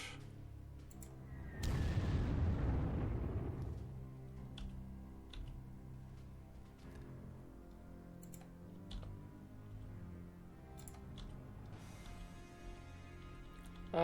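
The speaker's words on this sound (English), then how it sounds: "Romanian artillery" Artillery fire in the Panzer Corps strategy game for a Romanian unit: one loud, booming blast that fades slowly, followed by quiet clicking and faint low sounds.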